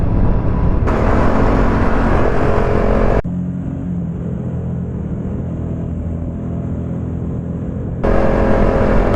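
An Aprilia RS457 roars hard in a rolling drag race against a KTM RC390, its loud, close engine note pulling strongly through the mid-range, dipping briefly to a duller drone before surging back.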